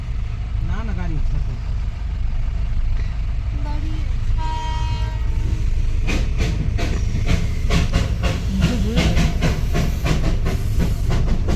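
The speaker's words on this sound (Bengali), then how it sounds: "আবার ইঞ্জিনটা আসছে" A railway locomotive engine rumbles continuously up close while steam hisses in loud bursts over it, with a whistle-like tone near the middle, and voices talking briefly beneath the din.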